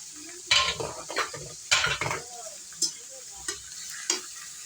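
Chicken sautéed with leftover onion in a pan hisses softly under a series of distinct scraping, clattering stirs, roughly seven strokes spaced irregularly, each flaring the sizzle briefly; no talking.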